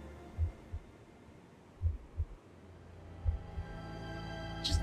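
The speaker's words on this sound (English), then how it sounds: "Do you hear that heartbeat?" A low heartbeat sound effect in the video game Hindsight thumps in double beats, several pairs spaced about a second and a half apart over a faint hum, ending with a brief high tone.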